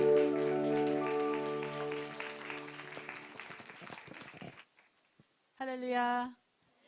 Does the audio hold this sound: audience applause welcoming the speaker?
yes